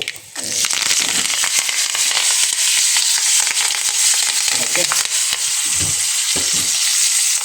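Loud, steady sizzling of asafoetida, mustard seeds, dried red chillies and curry leaves crackling in hot oil for pineapple sambar, with bursts of popping throughout and no voices.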